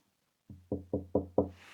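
Five evenly spaced knocks on a wooden table, close and firm, in a quick steady rhythm after a moment of silence.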